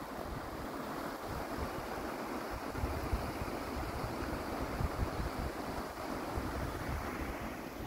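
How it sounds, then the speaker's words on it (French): Water rushes in a steady, unbroken stream from the Ardèche near its source, a very small mountain river flowing nearby, with a soft wind-like hiss and no voices. "c'est une toute petite rivière ici."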